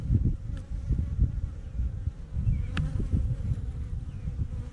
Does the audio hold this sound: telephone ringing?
no